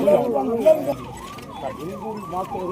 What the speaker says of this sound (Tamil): கொஞ்சம் ஆம்புலன்ஸ்